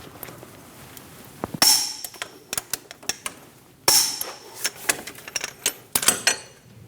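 Metallic clanks and ratchet clicks ring out while a wrench torques the nut on a strut bracket bolt of a 2008-2015 Scion xB, with two sharp bursts and a steady string of close taps in between.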